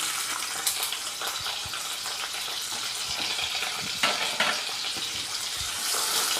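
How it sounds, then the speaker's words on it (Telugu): Mustard seeds and chilli pieces frying in hot oil in a pan, a continuous close sizzle with crackles and occasional popping and stirring scrapes. "ఆవాలు మిరపకాయ ముక్కలు కొంచెం వేగనిద్దామండి"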